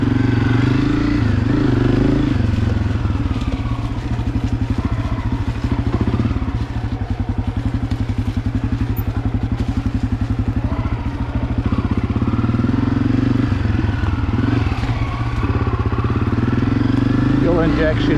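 Honda CRF250F fuel-injected dirt bike on a fall trail ride, its engine droning loud and continuous close by with throttle swells and rattling clatter throughout.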